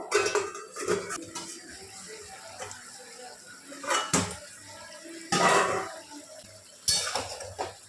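Metal lid lifted off a cooking pot of simmering potatoes: a few sharp clanks and scrapes of metal on metal, separated by quiet stretches, close by.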